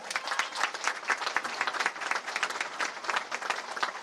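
A packed room at a Republican People's Party provincial office in Burdur, Turkey, breaks into steady, sustained applause, a continuous wash of many hands clapping with no letup.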